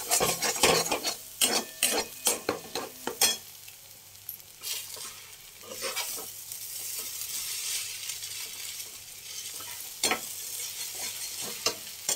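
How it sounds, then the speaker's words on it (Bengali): An egg seasoned with salt and black pepper fries in a pan, a steady close sizzle broken by repeated scraping and stirring strokes, which come in quick bursts at first and then occur only occasionally. "ডিমটাকে আমি ভাজবো"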